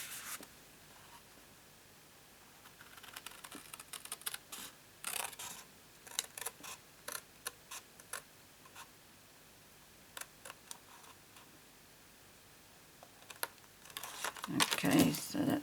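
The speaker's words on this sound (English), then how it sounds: "I'm going to do this by hand, and I'm going to cut right in the middle of the score line" Card being cut by hand along a score line while someone's voice is heard in the background, with soft intermittent snips and scraping strokes that build to a louder rustle at the end.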